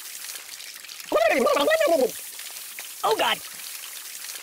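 Steady pouring water splashes onto the Buddy ragdoll in Kick The Buddy, a constant hiss under two short, pitched vocal exclamations from the character.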